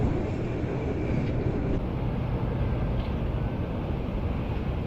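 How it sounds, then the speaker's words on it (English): A steady low rumble of a Docklands Light Railway train rolling past at a distance near South Quay, London, continuous and even, with faint wind-like hiss over it. "there goes the train"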